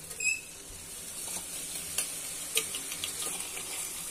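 Turmeric paste mixture hits a hot pan and sizzles, a close, steady hiss with faint scraping and clinks of stirring, no voices.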